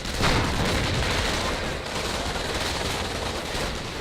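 Artillery fire in the World War II strategy game Company of Heroes, with a heavy rumbling barrage and a strong hit near the start that rolls on steadily to the end, loud and close, with no speech.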